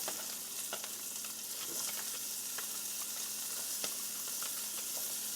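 Onions frying in a pan for a canned corned beef dish, a steady soft sizzle with faint crackles and pops throughout, no talking.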